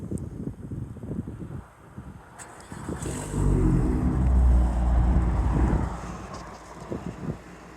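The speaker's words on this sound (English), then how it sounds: "cold start, straight piped." Straight-piped 2013 Nissan Altima 2.5 S on a cold start: a loud, deep exhaust bark and sustained low rumbling idle after a few seconds of wind-buffeted handling noise, then settling back.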